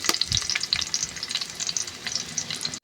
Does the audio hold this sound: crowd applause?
no